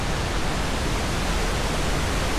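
Casaroro Falls pours as a dense, unbroken roar of rushing water, loud and steady throughout with no pauses.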